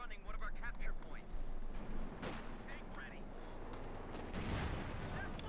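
Distant tank and bazooka fire in Company of Heroes 2 sounds as a few muffled booms and scattered gunshots on a noisy wartime battlefield, with a commentator talking over it.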